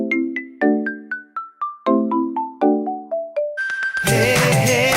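A phone ringtone plays a loud, close melodic sequence of bright descending chime tones repeating in a pattern, then gives way to a denser, noisier burst of music at the end.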